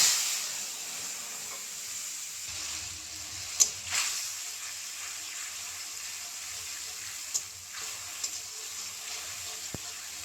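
Green chili and ginger paste fry in a pan with a steady hissing sizzle, a few faint clicks and taps over it, close and even, no voices.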